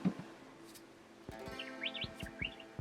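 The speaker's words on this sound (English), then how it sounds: "Hope you can hear the birds." Several birds chirp and tweet in short, bright bursts, fairly faint and a little distant, with a few soft knocks between calls, in the Queensland bush at Alroy Station Campground.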